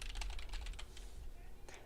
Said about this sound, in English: Can you guys hear my keys typing